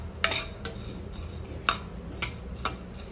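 A utensil stirs chicken xacuti masala frying in a pan, with several sharp metallic scrapes and clinks spaced irregularly over a low background hiss and no speech.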